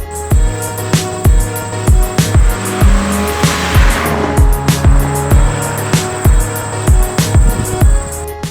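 A 2017 Toyota 86 on Michelin tires slides as its rear steps out, engine droning with steady repeated pulses while a sustained tire squeal and scrubbing noise swell through the middle, loud and close, with no talking.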